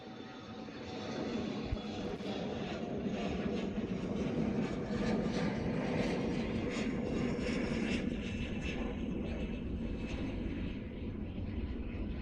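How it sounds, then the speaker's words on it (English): An Alaska Airlines Embraer E175 jet departs, its engine roar steady and loud as it builds and holds, with no voices. "We got a departure right here. Looks like Alaska. E175."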